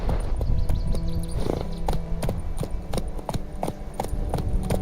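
Geralt's horse Roach trots in The Witcher 3, with crisp, rhythmic hoof clops striking close by at a steady pace over a busy game background.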